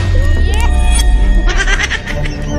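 A goat bleating in a Hindi film scene, a loud wavering cry that rises over continuous background music, with someone speaking over it.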